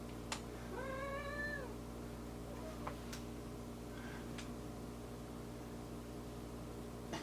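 Two cats meow in a quiet room, a drawn-out harmonic meow near the start followed by a few shorter, fainter calls and small clicks over a steady low hum, with no talking.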